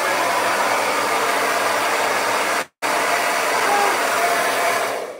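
A blow dryer roars steadily at close range while drying dreadlock extensions after a shower, a loud constant airflow that cuts out for a split second near the middle before resuming.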